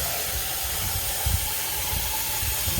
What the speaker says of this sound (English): I'm rinsing out my bowl and my comb as well